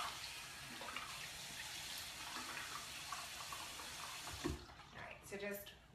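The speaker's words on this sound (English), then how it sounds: "Wetting it with some warm water." Warm water runs steadily from a tap as a face is washed, a broad even hiss that thins out near the end, with a few faint knocks and splashes and no talk.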